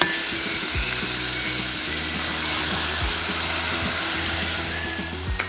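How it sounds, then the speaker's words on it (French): Loud, constant sizzle of an egg cracked into a hot pan beside cooked poultry, with low clatter of the pan underneath and no talking. "On casse un œuf."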